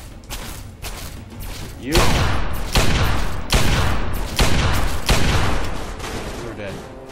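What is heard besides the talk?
gunfire shooting at player in Fallout 3 Broken Steel video game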